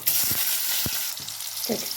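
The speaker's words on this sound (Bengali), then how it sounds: "ক্যাপসিকাম ভাজা হয়ে গেছে" Sliced capsicum frying in a pan with tempered spices for a vegetarian paneer dish, giving a close, steady sizzle broken by a few short stirring scrapes, with no talk.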